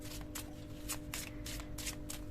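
Tarot cards shuffled by hand in a quiet room, with several soft, papery riffling bursts in an uneven rhythm over a faint steady hum.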